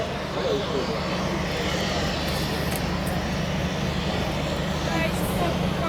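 Red Arrows jet aircraft flying in formation at the Luchtmachtdagen 2019 air show make a loud, steady, broad roar that fills the whole stretch, with an announcer's voice in the mix.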